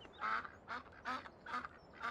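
Ducks quack in the Farming Simulator 17 game, four evenly spaced calls in a steady rhythm, clear and close.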